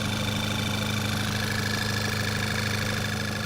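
A tuned VW GTI engine idles after a cold start, its steady low rumble with a faint knocking texture running continuously and close by, no voices over it.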